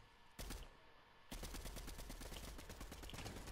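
Rapid video game shooter gunfire: one short burst, then a near, loud, continuous stream of fast, evenly spaced shots.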